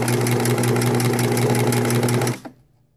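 A sewing machine stitching a long edge of organza fabric, a loud close steady whirring hum for about two seconds that stops abruptly with a final clunk.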